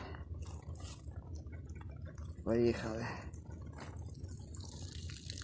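Rainwater poured from a watering can onto a tomato bed makes a steady, soft splashing trickle throughout, with a brief spoken word partway through.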